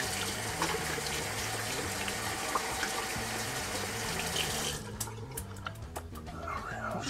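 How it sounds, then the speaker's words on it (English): Hot water runs steadily from a tap while a shaving brush is rinsed under it, a continuous close splashing wash that cuts off near the end, leaving a few faint drips and clinks. A low musical drone plays underneath throughout. "rinse off the brush"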